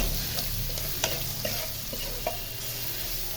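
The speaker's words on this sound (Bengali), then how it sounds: "রসুন বাটা, হলুদের গুঁড়া, জিরের গুঁড়া, একটু লবণ দিয়ে ভালোভাবে নাড়াচাড়া করে নেব" Garlic paste, turmeric and cumin fry in a pan while being stirred, a steady close sizzle broken by several sharp spoon scrapes and taps.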